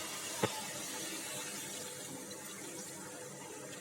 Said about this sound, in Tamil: இப்போ நான் கொஞ்சோண்டு தண்ணி சேர்க்கிறேன். நான் இஞ்சி பூண்டு அரைச்ச தண்ணி வச்சிருக்கேன், அந்த தண்ணியை மட்டும் கொஞ்சோண்டு சேர்க்கிறேன்.